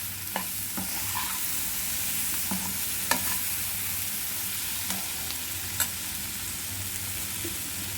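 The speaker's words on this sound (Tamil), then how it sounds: "இது எண்ணெயில் நல்லா வேகட்டும்." Thinly sliced potatoes and vegetables fry in oil, giving a steady bright hiss and sizzle with a few faint pops and utensil clicks, close and continuous with no voices.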